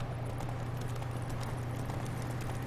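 Horse hooves clip-clopping in The Witcher 3 game, a steady rapid trotting rhythm over a low droning hum, moderately loud and continuous.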